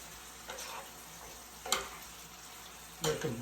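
A pan of Chinese stir fry with hoisin sauce sizzles steadily at low level, with two brief louder scraping stirs near the middle and end.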